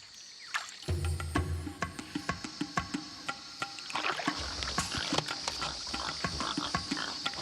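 Rhythmic grunting and snorting from wild pigs, a quick series of rough pulses close by over a steady background hiss.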